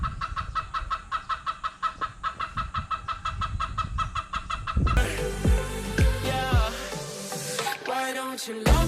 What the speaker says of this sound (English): The chickens want to join our video.